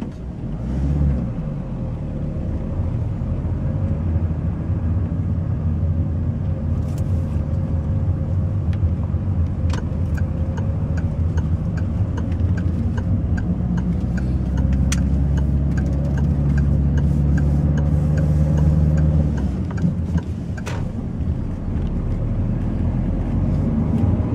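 A car on a driving test heads toward the motorway, its engine a steady low hum with road rumble throughout, plus a faint ticking indicator in the middle stretch; no one speaks.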